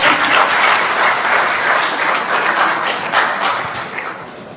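Audience applause fills a year-end ceremony for foreign students in Bejaia, dense steady clapping from a crowd that holds loud throughout and thins slightly at the end.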